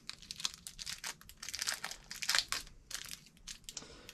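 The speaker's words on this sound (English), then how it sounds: "we want to just run this along here and tape it down" Tape pulled and pressed down to secure a temperature sensor wire on a 12 V LiFePO4 battery build: close, quiet crinkling and tearing rustles in irregular bursts.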